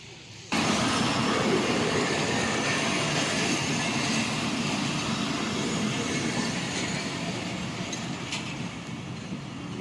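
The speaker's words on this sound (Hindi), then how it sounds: "अचानक ही मेरे पास से ट्रेन गुजरी तो मैंने कैमरा ऑन किया" A train rushes past close by at Qilla Sattar Shah Railway Station, Pakistan, a loud steady roar of wheels and rumble that starts abruptly and holds for several seconds before slowly easing.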